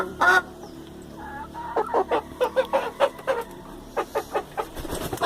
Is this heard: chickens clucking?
yes